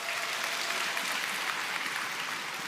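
Steady, dense applause from a seminar audience at an Atomy success academy session fills the room, a continuous close wash of many hands clapping at even loudness with no voices over it.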